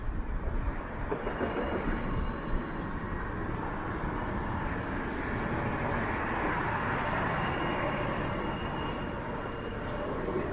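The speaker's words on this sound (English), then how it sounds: "It looks like we got a bit of a streetcar backlog here." Toronto streetcars on King Street rumble and grind steadily in a continuous broad roar, with faint higher squeals riding over the traffic noise throughout.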